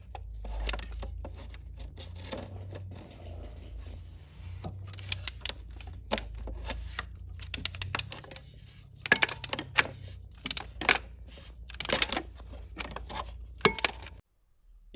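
Metallic ratcheting and clinking of a wrench loosening the timing-belt tensioner bolt on a Volvo 2.4 D5 diesel engine in an XC90/V70, in bursts of close clicks and scrapes with short pauses, no talking.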